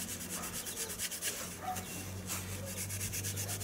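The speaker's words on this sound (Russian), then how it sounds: "Резинку, заплатку зачищаем." A rubber inner tube patch is scuffed and cleaned by hand, giving a steady, close rasping rub that continues in repeated strokes without pause and with no voices.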